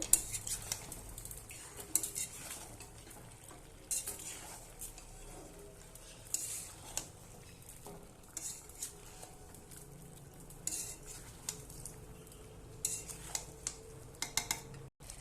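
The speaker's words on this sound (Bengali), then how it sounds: "এবার আমি ভালোভাবে নেড়ে নেব।" Chicken kosha with chilli powder and ginger-garlic paste being stirred in a pan, a spoon scraping and clinking against the metal in steady, close strokes over a faint sizzle, with no talking.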